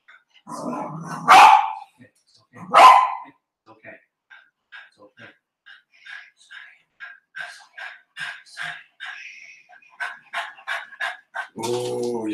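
A pet dog barks twice in sharp, loud bursts close by, then people talk at length afterward with a few faint sounds underneath.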